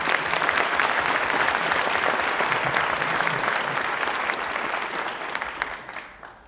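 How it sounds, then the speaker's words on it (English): Audience applause at an MLK Day convocation, a dense, steady wash of clapping from a large crowd that holds strong for several seconds and then gradually thins and fades out. "Have another round of applause for Blaine Egan and our state president."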